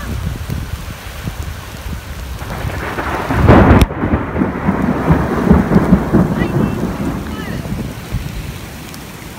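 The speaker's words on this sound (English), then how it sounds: "Here comes the rain." Heavy rain pours steadily as a thunderstorm rolls in, with a loud, sharp thunder crack midway followed by rumbling, all close and dense under the downpour.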